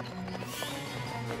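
Cartoon pony hooves gallop in a race between Applejack and Rainbow Dash, with quick, close clip-clop beats under a faint bed of crowd and music.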